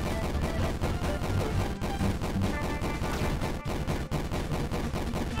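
Gunshots from a gun in the Dash Hale game demo: dense, continuous rapid firing with a few sharper accented hits, loud and steady under layered game sound.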